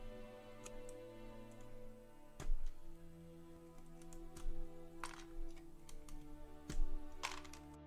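Keycaps being pried off a Topre keyboard with a keycap remover: a sparse, irregular series of sharp plastic clicks and snaps, fairly close, over a faint steady hum.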